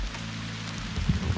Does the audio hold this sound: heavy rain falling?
yes